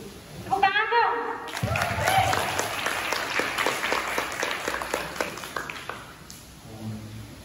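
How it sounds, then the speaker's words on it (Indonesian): Audience clapping at a school student council candidates' debate, a lively burst of applause following a brief tone, with some faint voices mixed in before it tapers off near the end. "Tepuk tangan dong."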